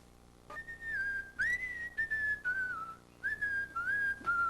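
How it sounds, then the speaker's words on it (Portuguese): A person whistles a gliding, wavering melody in a few phrases separated by short pauses, clear and close. "Minha vida é assobiar."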